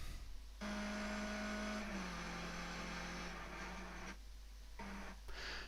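A Skip Barber race car in the iRacing video game drones with a steady engine tone, then brakes and drops through the gears to second with blips in pitch, a close, continuous in-car sound with no talk.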